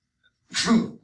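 A single sneeze bursts out in a classroom during an algebra lesson, a sharp breathy onset followed by a louder voiced release, close and alone.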